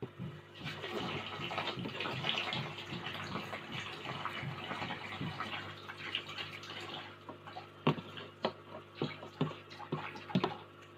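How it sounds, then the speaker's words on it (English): Water siphoned from a shrimp aquarium drains into a bucket, a soft continuous trickle and splash that thins into separate drips and splashes toward the end. "I'm going to capture the water in this bucket."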